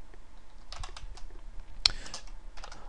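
Fingers type on a computer keyboard in quick irregular bursts of close, light clicks and clacks, with short pauses between flurries and no voices.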